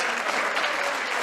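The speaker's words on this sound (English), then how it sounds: "Another rousing applause for our district governor" Continuous applause from an audience at a Rotary club meeting for the district governor, a uniform wash of clapping at moderate level with no voice on top.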